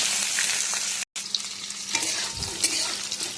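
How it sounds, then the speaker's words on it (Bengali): Pointed gourd pieces stir-fried lightly in mustard oil in a kadai: a close, loud sizzle with stirring scrapes and a short break partway through, and no speech. "পটলগুলো একটু ভেজে নেব হালকা করে।"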